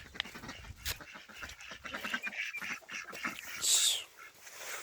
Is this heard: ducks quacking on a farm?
yes